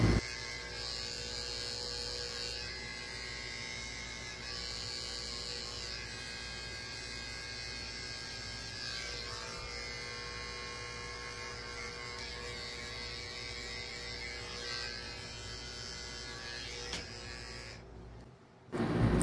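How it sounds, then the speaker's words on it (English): Electric dog clippers fitted with a 30 blade shaving around the eyes of a Yorkie-Shih Tzu mix, a steady close buzzing hum that runs unbroken for most of the clip, with a slight change in tone as the blade meets fur. "I'm coming in with my 30 blade and lightly shaving out the corners of her eyes"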